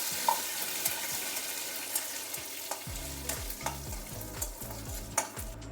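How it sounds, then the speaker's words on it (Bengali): Curry leaves frying in oil for a bottle gourd chutney, giving a faint, steady crackling sizzle with scattered pops and a low rhythmic scraping of the pan in the second half. "কারি পাতা দিয়ে ভেজে নিচ্ছি।"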